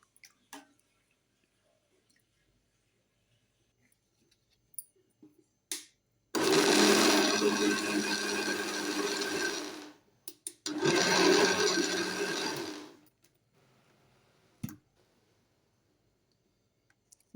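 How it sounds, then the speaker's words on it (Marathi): Mixer grinder blending soaked sabudana for papad batter: two loud, steady whirring bursts of about four and two seconds, separated by a short pause, with near-silence and faint clicks before and after. "मिक्सरला वाटून घ्यायचं"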